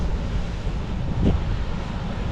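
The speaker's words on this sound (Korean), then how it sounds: "오우 파도 장난 아니네" Ocean waves crashing on a shore in Taiwan on a rainy day, heard as a loud, constant roar of surf mixed with wind buffeting the microphone, with one brief swell of breaking water midway.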